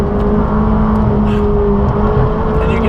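Loud, steady engine drone of a McLaren 600LT sports car heard from inside the cabin while driven, with a sustained tonal hum and road roar and no gear changes.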